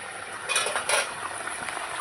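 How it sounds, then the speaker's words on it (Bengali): A metal lid is lifted off a pot of simmering fish curry, giving two soft, close clinks over a quiet background hiss. "ঢাকনাটা তুলে নেব।"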